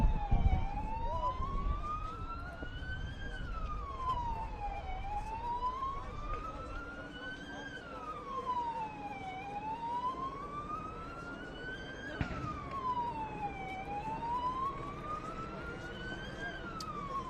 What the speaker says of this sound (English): The siren's still going, by the way.